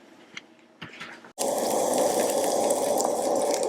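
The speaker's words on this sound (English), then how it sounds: "And now we're going to go pan fry it." Fish laid into oil in a titanium pan outdoors in the backcountry: a few quiet clinks, then a sudden, loud, steady sizzle that keeps going unbroken, close up, with no talking.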